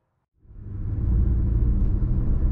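A new-generation Honda CR-V on the road gives a steady, low rumble that fades in after a brief silence and holds evenly, close and moderately loud.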